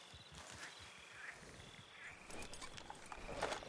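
A horse in Red Dead Redemption 2 clip-clops with soft hoof beats and snorts near a stable, fairly faint and low in the mix, growing slightly louder toward the end.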